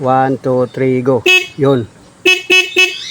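Horn of a Honda CB 125 tricycle sounded in three short, sharp toots close up after a man counts down, with his voice carrying on between the honks.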